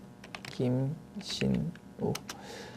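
The F2 key being pressed on a computer keyboard during accounting software work: a few light, close clicks scattered among a man's speech.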